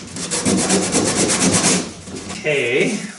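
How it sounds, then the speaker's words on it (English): Sandpaper rubs by hand over wooden boat parts during construction, a steady back-and-forth scratchy friction that is close and fairly loud, with a brief pause before a short burst of a voice near the end. "get out a piece of sandpaper"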